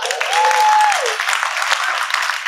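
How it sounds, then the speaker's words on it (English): Crowd clapping at a regional real estate rally in a large hall, broad sustained applause with a brief whistle-like tone near the start, no speech over it. "clap to yourselves for taking out the time"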